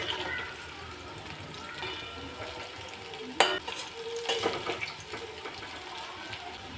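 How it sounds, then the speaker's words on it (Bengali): Bitter gourd slices fry in a pan, a steady low sizzle with a few sharp clinks and stirring bursts partway through, fairly quiet and close with no talking. "এইভাবে ভেজে একবার দেখবেন"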